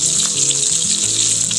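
A New York strip steak sears in a hot sauté pan, its sides crackling in a loud, continuous sizzle with no voices.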